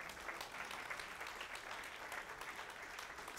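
A church congregation applauds during a sermon, a sustained wash of many hands clapping at a moderate distance, steady throughout with a sharper burst at the very end.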